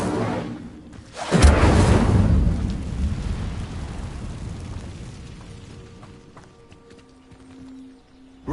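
A fire spell, Incendio, cast in Hogwarts Legacy: a sudden loud whooshing burst of flame and rumble that swells quickly, then slowly fades into a low hum with a small tonal chime near the end.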